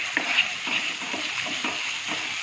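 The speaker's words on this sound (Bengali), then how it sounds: "দুধটা দিয়ে কিন্তু ক্রমাগত নাড়তে থাকবেন" Coconut milk is stirred into prawn curry masala for a Bengali malai curry, giving a soft steady bubbling sizzle with light rhythmic scraping of a spoon in the pan, close by and without talk.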